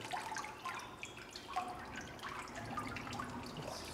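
Water drains from cotton paper pulp sitting in a papermaking mould that works like a filter, giving faint, scattered drips and trickles that run on softly and steadily.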